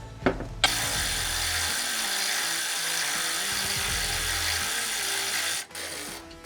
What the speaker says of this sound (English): It's gonna be a 10mm socket that I'm using here with the ratchet.